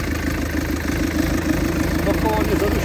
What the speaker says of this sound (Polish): No pojeździć ciągnikiem mogę